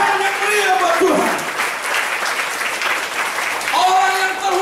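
A church congregation claps loudly and steadily during a Sunday service, with a voice speaking over the applause at the start and end.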